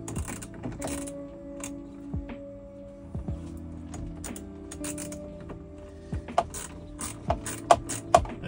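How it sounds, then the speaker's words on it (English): Hand ratchet working on bolts inside a Jeep Wrangler JK dashboard during a radio swap, a run of quiet clicking ratchet strokes with a few sharper knocks near the end, fairly close and with no talking. "I got the steering wheel adjustment right where I'm trying to ratchet."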